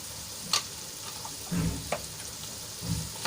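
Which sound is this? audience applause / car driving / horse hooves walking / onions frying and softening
onions frying and softening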